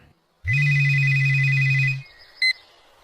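A phone rings with an incoming call from mother, a loud steady electronic ringtone lasting about a second and a half, followed by a short beep, close and alone.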